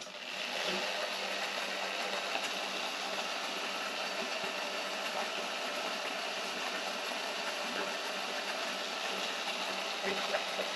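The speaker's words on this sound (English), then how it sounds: "it is going to spin the wheel and it's going to calibrate" A KO race spec motor on a BAC8000 or BAC4000 controller spins a bike wheel during calibration, giving a steady whirring hum at moderate level with a faint mechanical ticking throughout.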